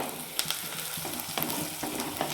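Chopped onions sizzle and fry steadily in a hot pan, with occasional stirring clinks and scrapes, the sizzle continuous and fairly close with no voices.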